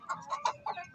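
Chickens give a short run of four or five soft, nasal clucks in quick succession, close and fairly quiet, lasting under a second.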